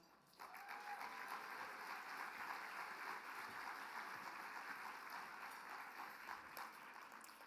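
A summit audience in a large hall gives steady, sustained applause for an executive director taking the stage, a dense even roar of many hands heard at a distance and held without a break.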